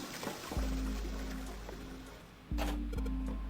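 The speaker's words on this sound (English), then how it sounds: "I heard a loud flushing noise" A loud whooshing rush like a toilet flushing bursts in twice within a video game scene, each onset sudden with a low droning body that lingers, and no voices present.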